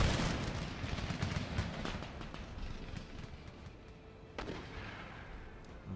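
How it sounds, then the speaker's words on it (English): Dense, crackling musket volleys from massed line infantry in the strategy video game Empire Total War roll on continuously, with a sharper crack near the end over a rumbling battlefield din. "now they're hitting musket fire"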